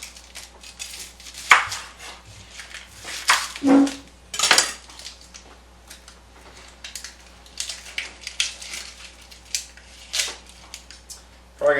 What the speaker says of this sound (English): we're just going to chop it all up.